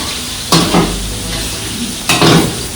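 Water hits a hot Kannada-style tempering of green chillies in a pan, giving two loud sizzling bursts followed by scraping stirring sounds, close up with no voices.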